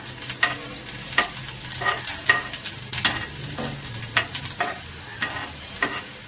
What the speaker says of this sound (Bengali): সেই রসুন কুচিটা আমি তেলের মধ্যে দিয়ে দিলাম